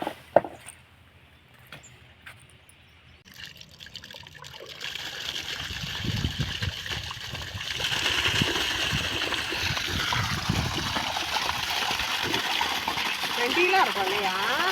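Running water splashes and trickles steadily while harvested tapioca roots are washed outdoors on a farm, a continuous splattering wash that grows louder and fuller after a few quiet seconds, with people talking over it.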